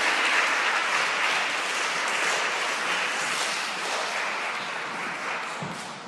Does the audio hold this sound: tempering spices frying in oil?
no